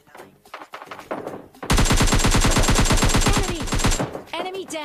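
Gunfire in PUBG Lite, fired in a stadium area at a bot opponent: a loud, rapid, sustained string of shots lasting a couple of seconds, preceded by scattered softer in-game sounds.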